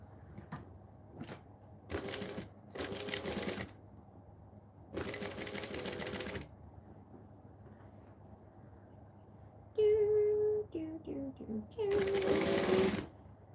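A sewing machine stitches quilt pieces together in short bursts, its rapid mechanical whirring starting and stopping several times, close and clear, with brief talk in between.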